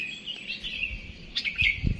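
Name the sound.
songbirds chirping in trees, including sooty-headed bulbul (kutilang)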